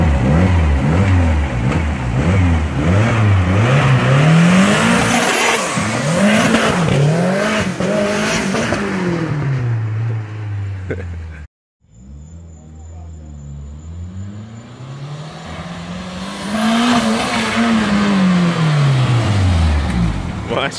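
A Toyota Celica 4WD with a 3SGE Beams turbo engine and six-speed manual revs hard, rising and falling repeatedly in loud sweeps, drops to a short silence, then revs up again close by, with voices talking over it.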